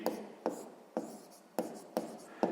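A pen scratches across a notebook page in short strokes, about six distinct taps and scrapes spaced roughly half a second apart, close and quiet, with no talk.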